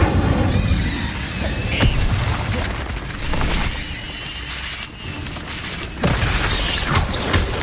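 Incendio fire spells cast in Hogwarts Legacy burst loudly and repeatedly over dense combat noise, with whooshing flares and booming impacts every second or so and no talking.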